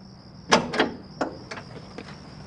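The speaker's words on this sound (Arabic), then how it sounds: "ليه مقفل الباب؟" A locked door being tried: a couple of sharp rattling knocks of the handle and frame, then softer fading clicks, heard close against a steady high background hum.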